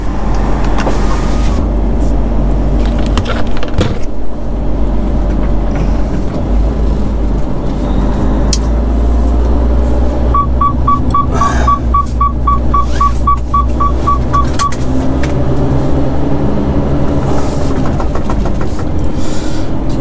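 A heavy vehicle rolls slowly up toward a crane, its deep engine drone steady under rattles and clunks, with a brief run of regular high beeps partway through.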